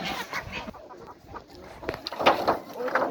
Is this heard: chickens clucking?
yes